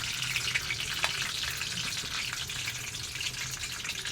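Chopped garlic and bay leaf frying in hot oil, a close, continuous crackling sizzle with small pops, steady in level throughout.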